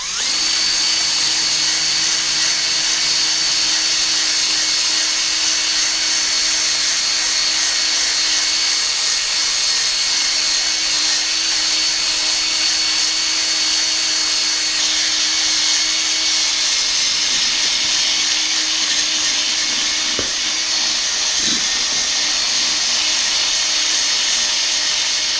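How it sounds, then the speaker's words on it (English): Power buffer spinning against a foggy car headlight lens coated in rubbing compound, a loud continuous high whine with a steady hum, running alone without talk. "and start buffing"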